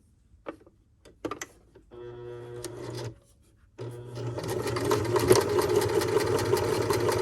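A sewing machine stitching a flat felled seam close to the fabric edge: a few short stitching bursts with pauses, then a steady, close mechanical whir that runs continuously to the end, with no voices.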